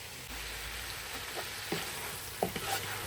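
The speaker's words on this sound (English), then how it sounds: "let that simmer for a little bit, or sear for a little bit more with the peppers" Pork and peppers sear in a hot pan with a constant close sizzle for an Italian pork and cabbage dish, with a few soft stirring knocks and no voices.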